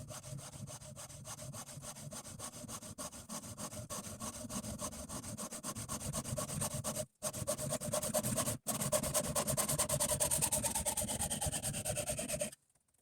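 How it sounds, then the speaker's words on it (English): A flat file strokes rapidly and rhythmically across a sawn copper lanyard bead held in a vise, a continuous rasping scrape with two brief pauses near the end, close and fairly loud with no talk. "I'm filing down the heavy burrs and leveling the edges with a flat file"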